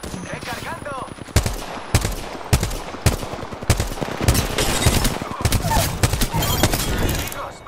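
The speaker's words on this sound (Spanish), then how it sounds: "¡Se disparan!" Gunfire in Apex Legends, with loud, close bursts of rapid shots broken by several sharp cracks and heavy impacts, while a voice talks over the firing at times.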